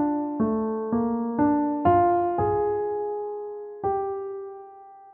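A theme from a musical is played as a slow, gentle melody of single sustained notes, each struck softly and left ringing, about seven notes in total, quiet and clean with no voices.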